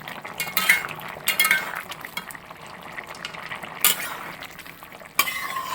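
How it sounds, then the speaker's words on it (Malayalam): Kerala-style chicken stew with carrots and potatoes is stirred in a pot: a spoon scrapes and swishes through the thick liquid, with a soft bubbling simmer and a few sharper clinks against the pot, close and alone. "നന്നായിട്ട് ഇളക്കി കൊടുത്ത്"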